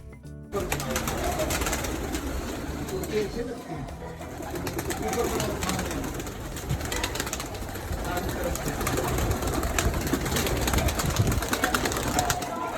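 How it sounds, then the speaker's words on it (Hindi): A large flock of domestic pigeons coos continuously at a family home in Abbottabad, a dense, busy backyard murmur with wings and rustling, while a person talks over the birds throughout. "और ये मेरे अब्बा के ढेर सारे कबूतर"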